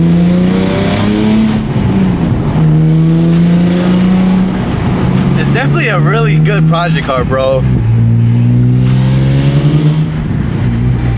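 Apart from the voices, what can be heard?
Nissan 350Z engine revving with exhaust leak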